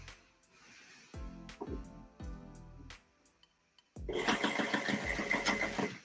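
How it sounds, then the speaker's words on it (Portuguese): Sewing machine stitching a seam along the edge of fabric for a zippered baby-clothes bag: a few short separate bursts at first, then a sustained, louder continuous run of rapid mechanical stitching. "Como ficou na beiradinha do tecido, eu só tô passando mais uma costura"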